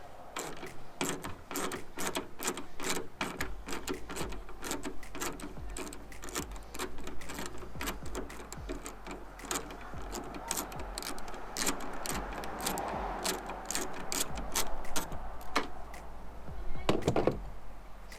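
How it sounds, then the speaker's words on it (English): An 8mm socket on a ratchet loosens a rear spoiler bolt on a Subaru BRZ, giving a long run of quiet, close, rhythmic clicks with a few firmer knocks near the end. "Use our 8mm socket."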